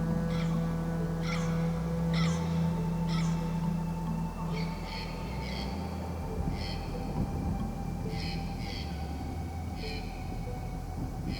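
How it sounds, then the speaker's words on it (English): Birds calling in fog-covered green hills in Costa Rica, short repeated high calls scattered through the clip over a steady low rumble of background noise, moderately distant, with no talking. "Somewhere inside the fog, birds call, and the sound just lingers."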